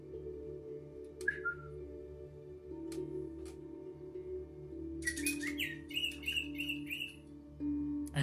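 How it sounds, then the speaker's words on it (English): An African grey parrot vocalizes indoors with a few short chirps and whistles, then a busier run of warbling, squeaky calls over a low steady hum. "the bird you just saw now is another African gray parrot"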